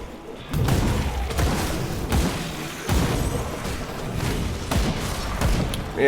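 Grenades explode in the action role-playing game Grim Dawn, a series of heavy booms and thuds repeating every second or so over a loud, busy combat din.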